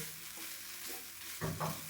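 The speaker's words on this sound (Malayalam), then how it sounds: "നമുക്കിങ്ങനെ ഇളക്കി കൊടുത്തുകൊണ്ടിരിക്കാം" A spoon stirs rice and lentils dry-roasting in a pan for a dried-fish sambar, giving a quiet low sizzle with a couple of short scraping strokes near the end.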